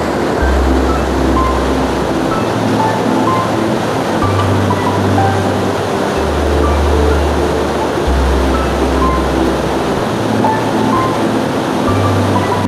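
A small hydro power plant in Hunza runs its turbine with rushing water: a constant loud roar of flowing water over a low, pulsing machine hum, steady throughout and with no voices.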